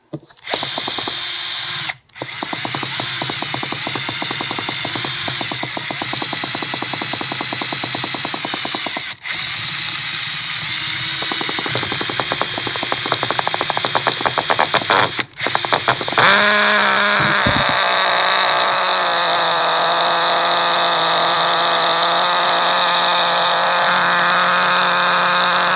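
Trinity Next 1/16 nitro truggy engine being started and run, a loud, buzzing small two-stroke whine with brief cutouts early, then settling into a steady higher-pitched drone.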